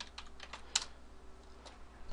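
Quiet, steady clicking of keys on a computer keyboard as a title is typed into a university course search demo, with one slightly sharper keystroke and no speech.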